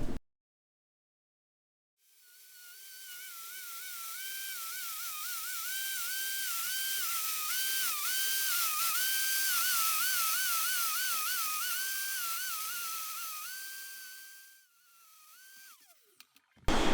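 An angle grinder bevels the outside edge of a steel tube for welding on a custom Jeep long-arm build, a loud, steady high-pitched whine that wavers as pressure changes, starting and stopping abruptly, with no talking.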